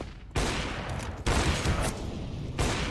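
Bursts of rifle fire in the game CS:GO, loud and close, coming in about three heavy blasts with dense crackling between them and no talking.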